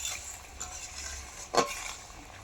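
Prawn jhol bora in mustard oil is stirred with a metal spatula, a soft simmering sizzle with light scraping and one louder clack of the spatula against the pan.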